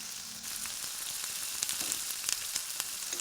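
Pork frying in a pan with dried chillies, a steady close sizzle with scattered crackles and pops that runs throughout, with no voices.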